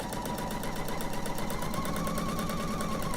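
A sewing machine running steadily as it stitches a quilt seam, a fast even mechanical whirr and rapid ticking throughout, close and continuous with no talk.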